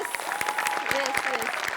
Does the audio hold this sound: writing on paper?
no